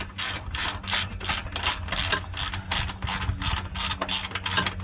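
A ratchet wrench tightens bolts on a GM car's camber plate, giving a steady run of close, crisp clicking pawl strokes in repeated bursts with no talking.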